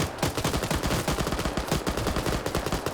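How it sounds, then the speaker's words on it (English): Rapid gunfire from the Operation Flashpoint video game, in a Russia versus NATO tournament battle, with a steady stream of dense shots and bursts running throughout at close range, loud and continuous with no talk. "More shots going in."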